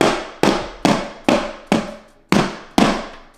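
A filled bundt pan of butter pecan pound cake batter is knocked against a counter seven times in a steady rhythm, each tap a sharp, close, loud thud that fades quickly.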